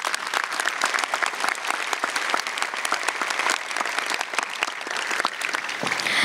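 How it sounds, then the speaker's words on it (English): A large crowd at a 2024 high school graduation ceremony bursts into loud, sustained applause, packed with sharp individual claps that continue without letting up. "can we please give another big round of applause to Hassan and Pradius?"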